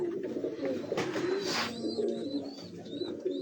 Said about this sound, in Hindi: ये प्योर कसूरी कबूतर है